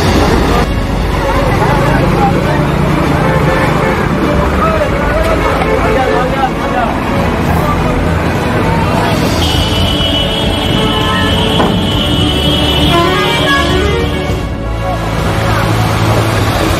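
A bus pushes through rising floodwater from the Barak river at Pancharam during Cyclone Remal, giving a loud, continuous rush of engine and churning water. Voices and crowd chatter run over it throughout.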